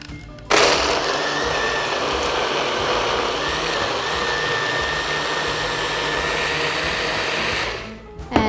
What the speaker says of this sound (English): blend it.